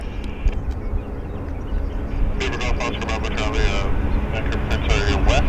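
A WestJet plane arriving from Calgary lands at Vancouver Airport, a loud engine roar that intensifies partway through, with someone speaking over it.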